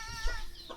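A chicken clucks briefly in a rural garden, a couple of short, fairly faint calls against quiet background.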